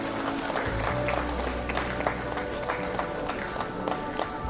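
Applause at a university convocation ceremony for management graduates as a name is called, a dense, steady wash of clapping from a large crowd that holds across the whole moment with low hall rumble beneath.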